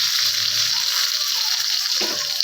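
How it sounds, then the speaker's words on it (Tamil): Mustard seeds and curry leaves sizzle and crackle in hot oil in a clay pot for a dried-fish curry, giving a steady close-up hiss with small pops throughout. "எண்ணெய் நல்லா சூடானதும் கடுகு, ரெண்டே பொருள் தாங்க, கடுகு அப்புறம் பார்த்தீங்கன்னா கருவேப்பிலை."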